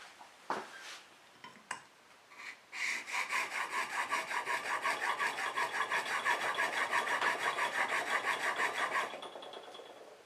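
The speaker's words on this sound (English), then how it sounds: "So I'm going to hit it on the 1000 stone at 25 degrees." A bench plane blade, held in a sharpening jig at 25 degrees, is pushed back and forth on a 1000 grit stone. After a few knocks, it makes a steady, rhythmic rasping of quick even strokes for several seconds, close and clear, then stops.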